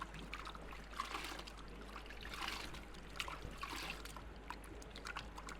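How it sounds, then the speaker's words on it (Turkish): Aquarium filter sponge squeezed and turned by hand in water, a faint close trickling and sloshing with soft irregular splashes, no voices. "Bir yandan yıkıyorum, bir yandan çeviriyorum süngeri."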